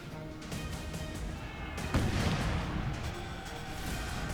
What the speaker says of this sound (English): Excellent artillery hit, though.